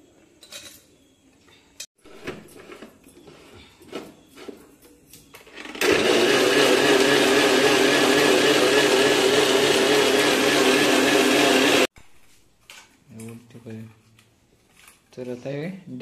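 A kitchen mixer grinder whirs loudly for about six seconds in the middle, grinding roasted coconut masala for a Malvani crab curry, with clatter and talk before and after the run.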